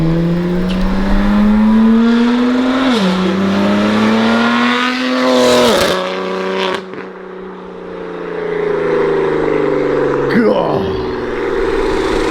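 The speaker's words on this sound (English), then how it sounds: "The Valvetronics is so loud." A BMW F80 M3 fitted with a Valvetronic exhaust revs loudly up close, its engine note climbing and dropping through several blips, with sharp cracks off throttle and a long rising pull.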